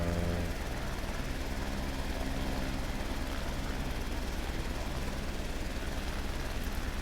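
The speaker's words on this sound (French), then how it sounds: "Ce que j'aime beaucoup avec cet hélicoptère, c'est le bruit en fait extérieur" A steady, droning helicopter engine heard from outside in Microsoft Flight Simulator 2020, with a low pulsing rotor hum, constant and loud throughout with no voices.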